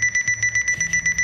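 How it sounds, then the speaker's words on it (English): Ruggie snooze-proof alarm clock, a floor mat that sounds until stood on, beeping in a fast steady pulse of bright, loud double-toned beeps, about eight in quick succession, with a faint low hum beneath. "it won't stop beeping until you stand on it for at least 3 seconds"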